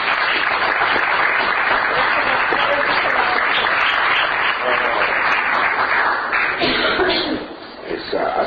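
Audience at a book presentation in Málaga claps together in a dense, sustained round of applause that fades out near the end.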